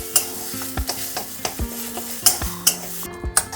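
A spoon scrapes and stirs ground paste in a hot pan for a potol jhajh putuli dish, with repeated rhythmic metallic scrapes and clinks over a steady low sizzle, close and fairly loud, with no talking.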